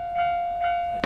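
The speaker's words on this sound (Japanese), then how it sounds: "電車止めろ" A passing train at a Japanese work yard gives off a steady tonal hum with faint pulsing overtones for about a second before a louder broadband rush cuts in at the end.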